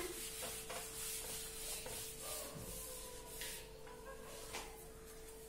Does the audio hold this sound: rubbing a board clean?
yes